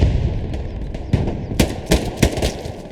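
An MG42 machine gun in Hell Let Loose fires sharp, loud bursts, with several spaced cracks and short volleys over a rumbling battlefield background.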